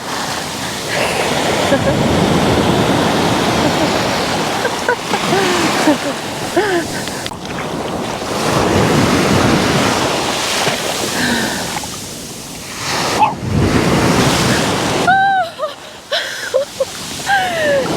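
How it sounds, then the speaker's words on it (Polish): Ocean surf at Playa de la Mena crashes and washes in loud, rolling surges, with people's voices and brief exclamations heard over the water. "Stałam sobie tyłem i mnie fala nakryła"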